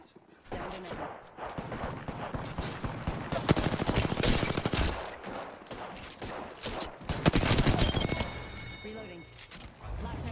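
Gunfire in a video game: rapid bursts of automatic shots and sharp cracks in dense clusters, loud and near, with a brief lull between volleys and voices calling out over the shooting.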